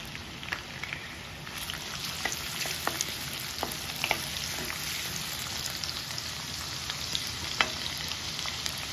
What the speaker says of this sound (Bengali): পেঁয়াজটাকে একটু ভালোভাবে আমি ভেজে নেব।